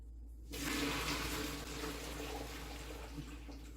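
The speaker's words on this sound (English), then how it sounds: "The pasta, I'm just going to be straining that." Cooked pasta for a vegan butternut squash feta dish being strained, with water pouring in a continuous rushing stream that starts suddenly and holds steady over a low hum.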